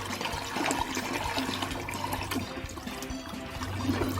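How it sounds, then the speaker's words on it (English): Rushing, gurgling water from a flushing toilet runs steadily at moderate level, with no voices over it. "Yes, that was the sound of toilet flushing."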